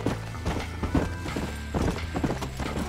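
Horse hooves clip-clopping in the video game Red Dead Redemption, a steady, moderately loud walking rhythm of hoofbeats with a low background hum.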